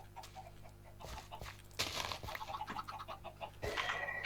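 Video game chickens cluck and squawk in a few sharp bursts over a faint steady background hum, moderately close, with no talking.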